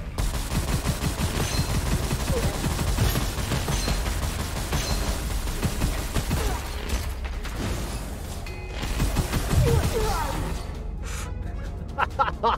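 A big gun in Gunfire Reborn fires in fast, dense bursts of shots, loud and continuous, with mechanical clanks mixed in and brief pauses late in the stretch.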